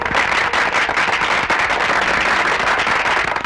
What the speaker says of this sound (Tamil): துப்பாக்கி சத்தம் கேட்காம பட்டாசு வெடிக்கிற சத்தம் கேட்கறத